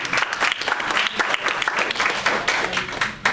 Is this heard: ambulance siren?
no